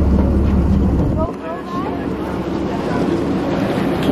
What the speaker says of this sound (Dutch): En deze wind is zo lekker.